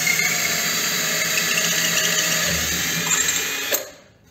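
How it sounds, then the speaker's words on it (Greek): Electric drill in Greek workshop boring steadily through a glue-filled hole at raised speed, a continuous high whine under strain that runs for nearly four seconds before winding down abruptly. "Η τρύπα γίνεται πάρα πολύ σφιχτά τώρα, έχει μεγάλη κόντρα το τρυπάνι."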